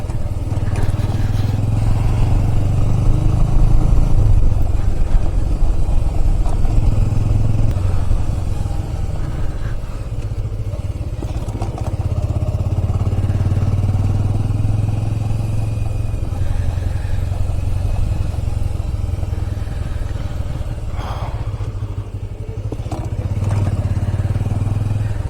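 A motorcycle rides the road toward Khecheopalri Lake, its engine humming steadily at close range with wind rush and road rumble for the whole stretch.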